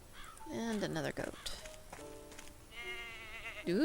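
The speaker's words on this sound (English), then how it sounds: "That goat is a menace." A goat bleats in the Agatha Christie And Then There Were None video game, a few wavering cries close by, alternating with a voice speaking.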